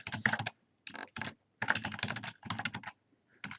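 A password is typed on a computer keyboard to log in, quick clusters of close, crisp keystrokes in several short bursts separated by brief silences, no voices.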